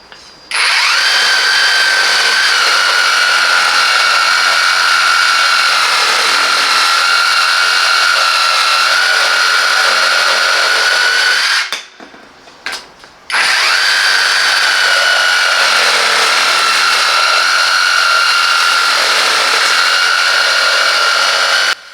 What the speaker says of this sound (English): So let's move on outdoors and test this saber saw.